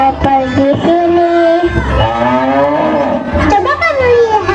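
Cattle moo on a farm in a musical drama, several long, drawn-out lowing calls following one another, loud and close, with a voice talking among them.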